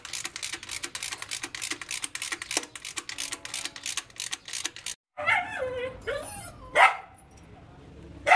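A dog barks in a quick, steady series of sharp barks nearby during an engine teardown of a 2011 1.4 Fire motor, followed by a short pause and a few shorter yips and whines mixed with faint voices.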